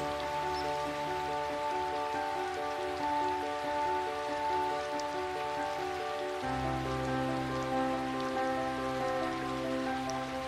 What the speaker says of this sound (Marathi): आणि एवढ्यात पाऊस आलाच.